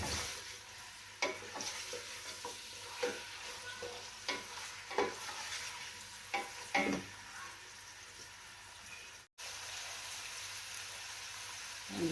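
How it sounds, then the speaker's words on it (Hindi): Mutton, onion and garlic fry in a pan for kachnar gosht, giving a steady close sizzle broken by occasional louder stirring scrapes, with no talking. "प्याज और लहसुन के साथ ही मैंने गोश्त भी डाल दिया है ताकि इसे मैं फ्राई कर लूँ लहसुन के साथ ही और प्याज के साथ"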